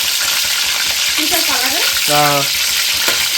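Chicken leg pieces deep frying in hot oil give a loud, constant bubbling sizzle close up, with a brief tonal squeak and chirp heard over the steady frying and no talking.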